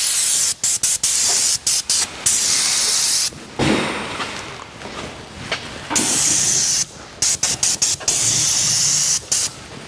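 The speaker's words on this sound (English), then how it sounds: "I like to do a nice uniform spray" A rustproofing spray wand hisses under a 2024 Ford Maverick, loud, close bursts of spray repeated rapidly with short gaps, some passes longer and steadier.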